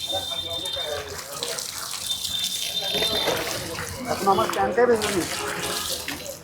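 Water poured over a person on a street in Bangladesh, with steady splashing and trickling close by that grows stronger toward the end while people talk throughout.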